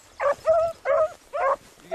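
A gun dog at a brace field trial on Grand Lake lets out four loud, close barks mixed with whining yelps, each burst a short strained cry with brief pauses between, and no talking over them.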